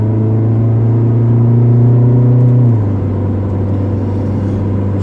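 A Roewe 216 engine revving hard under acceleration, a loud close droning hum that holds a high steady pitch, then drops down to a lower constant rumble, with no talking.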